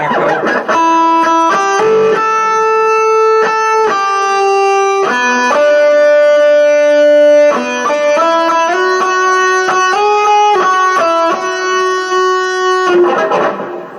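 Clean electric guitar run through a Boss GT-100's tape echo effect plays a melodic line of single notes and chords, each note ringing out with repeating echo tails, loud and solo.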